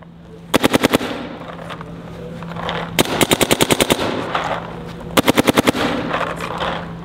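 A DLX Luxe X paintball marker fired outdoors in three quick bursts of rapid, evenly spaced pops, loud and close, with a faint hiss of air between strings.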